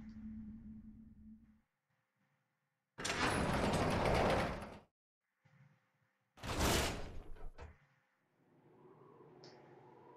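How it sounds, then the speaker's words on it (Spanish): A door opens in Resident Evil Zero on PS4 Pro, two loud mechanical bursts of grinding and clanking separated by silence, then a quiet low ambient drone. "A ver, aquí una puerta."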